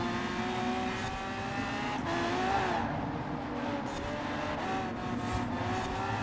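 Lamborghini Diablo GTR in Forza Horizon 4 at speed, a loud continuous engine roar with shifting pitch as it brakes and slows, tire noise underneath, close and sustained without talk.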